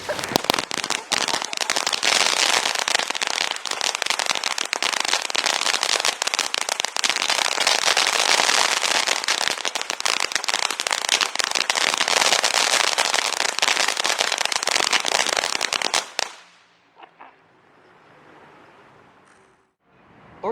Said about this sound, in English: That was not expected. Orchid fireworks.